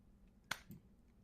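A single sharp hand clap followed a moment later by a softer, muffled half-clap, both close and quiet against a near-silent background.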